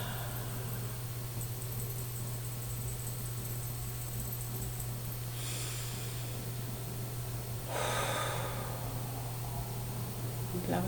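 Deep breathing during a guided EFT tapping meditation, two slow, audible breaths a couple of seconds apart over a steady low hum, close and fairly soft.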